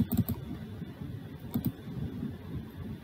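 Rapid, muffled keystrokes on a computer keyboard as a character code is entered, a dense patter of soft low taps with no voice.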